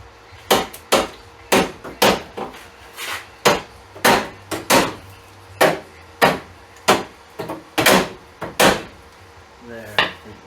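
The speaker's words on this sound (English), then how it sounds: "So I think I'm going to get a 5-pound hammer." A five-pound hammer strikes repeatedly, about a dozen loud, sharp blows at an uneven pace with brief pauses between them.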